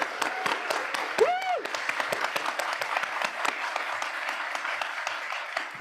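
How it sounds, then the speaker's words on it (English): An audience breaks into steady applause to welcome a student pitch group at a youth goals final pitch event, dense clapping carrying on throughout while a voice speaks briefly over it. "Big round of applause."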